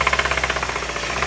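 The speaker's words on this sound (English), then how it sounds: "So as you hear the noise, this noise is actually coming from the engine" A running car engine knocking, a fast, steady metallic ticking rhythm over a constant low hum, close and fairly loud with no voices.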